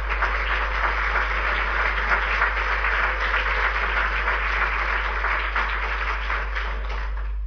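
Steady applause from an audience at a philately conference honouring Jacqueline Cora, dense and sustained at an even level throughout, with a low constant hum beneath.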